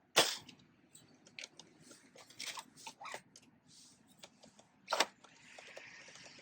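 A Caliburn foam dart blaster fires Max Ruby standard-length darts, giving sharp loud snapping shots, several distinct cracks spread over a few seconds with quieter clicks and handling noise between, and no voices.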